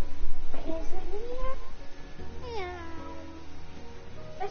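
A child imitates a cat, giving drawn-out meows with rising and falling pitch, two clear calls a couple of seconds apart over a steady low background hum.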